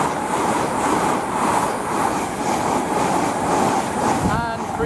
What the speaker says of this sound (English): the next train to pass by, we've got a service from Carmarthen to London Paddington